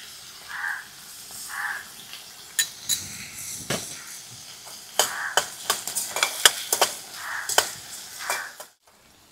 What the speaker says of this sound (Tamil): நல்லா வெங்காயம் நல்லா வதங்கிடுச்சு